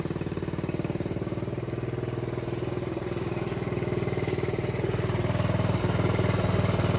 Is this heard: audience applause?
no